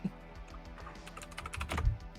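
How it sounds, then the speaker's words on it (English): Rapid typing on a computer keyboard, a close, quick run of light clicks that grows busier and louder toward the end, with no talk over it. "Sorry if you can hear me typing."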